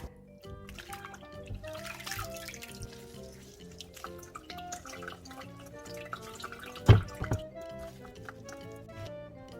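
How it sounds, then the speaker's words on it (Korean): Blanched lettuce is rinsed in cold water and squeezed. Soft dripping and trickling water splashes under steady background music, with one louder splash partway through. "데친 상추는 완전히 식히기 위해서 찬물에 두 번 헹구고 물기 꼭 짜줍니다."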